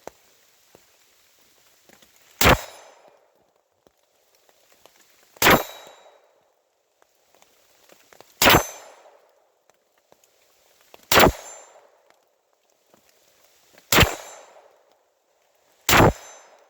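Taurus TX22 .22 pistol fired outdoors in the rain at steel targets, six single shots spaced a few seconds apart, each a sharp crack with a ringing clang, with light patter between shots.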